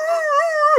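A voice mimics a dog's howl, one steady wavering tone under a second long that cuts off abruptly at the end, near and clear.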